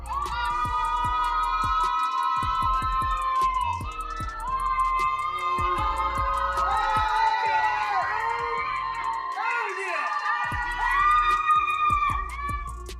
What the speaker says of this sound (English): the Caitlin Clark and the Indiana Fever getting booed as they're getting off their court